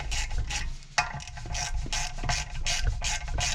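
A ratchet with an 11mm socket tightening valve cover bolts on a BMW E36 engine, a steady, close clicking of the pawl in quick repeated strokes with no talking.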